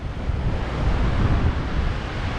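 Surf washes steadily onto the Lincolnshire coast at Six Marshes, a continuous broadband roar of breaking waves mixed with gusty wind buffeting the microphone, loud and unbroken throughout.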